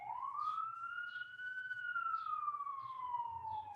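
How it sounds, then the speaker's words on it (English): A fire engine siren wails in a single long, steady rising-and-falling sweep, loud and continuous with a clear overtone, passing nearby with faint low traffic rumble underneath and no talking. "I don't know if you can hear the fire engine."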